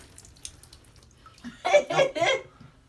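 Water splashes and sloshes in a short burst of two or three splashes as a cat is washed, with soft voices and light background noise around it.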